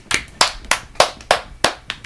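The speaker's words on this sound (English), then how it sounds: "Give a round of applause for Kevin." A small group of people clapping hands, about seven sharp claps in a loose, slightly uneven rhythm, close and clear with no talking.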